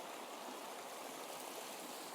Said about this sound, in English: This amazing, amazing little creek that has received the blessings of many